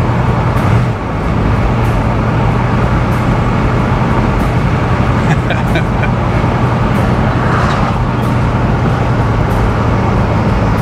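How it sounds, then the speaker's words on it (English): Steady road rumble and engine drone from a 1976 Pontiac Trans Am with a freshly installed Sniper fuel injection and a stiff raised rear end, cruising continuously with loud, constant noise and a few faint clicks. "we're driving a 76 Trans Am that hasn't been on the road in 7 years"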